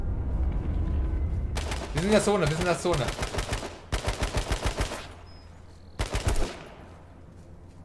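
Gunfire in the battle royale game H1Z1 King of the Kill, rapid bursts of shots in quick rhythmic volleys between stretches of someone talking, fairly loud and close.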